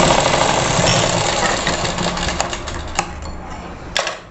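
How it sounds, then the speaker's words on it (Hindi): A sewing machine runs through a short stretch of stitching on a net blouse, a loud close mechanical whir that eases off toward the end with a few small clicks. "इधर से हम दूसरी सिलाई ले लेंगे।"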